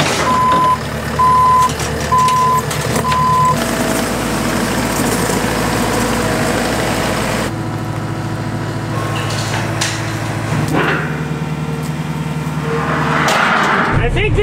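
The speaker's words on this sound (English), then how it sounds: "I think this is a great example of the raw power of this skid loader." A skid loader lifts a huge steel I-beam in a basement rebuild, its heavy diesel engine revving and idling loudly, with intermittent reversing beeps early on and clanks near the end.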